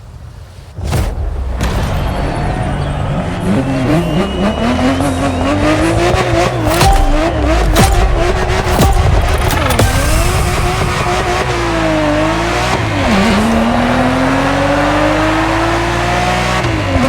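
A Ferrari 365 GTB4 Daytona races in The Crew Motorfest, its engine loud and continuous with rising and falling revs through gear changes, punctuated by tire squeals and skids, with no talk over it.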